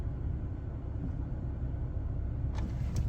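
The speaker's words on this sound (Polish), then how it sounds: "Auto zaczyna jechać poprawnie." A BMW car drives smoothly with its traction control switched off, a steady low road rumble heard from inside the cabin with a couple of faint clicks near the end.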